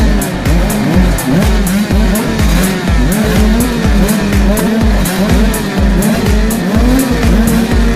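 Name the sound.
motocross motorcycle engines revving at the start gate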